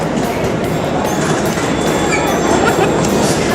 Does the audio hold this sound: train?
yes